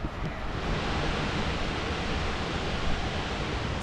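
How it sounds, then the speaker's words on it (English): A waterfall roars in the distance along lakeside walking paths, a steady broadband rush of falling water with no breaks and no voices. "We hear another waterfall in the distance."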